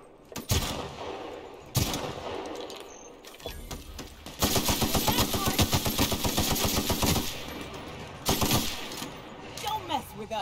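Rapid automatic gunfire from a first-person shooter, with loud sustained bursts of rattling shots separated by brief pauses and single cracks; a voice talks in between.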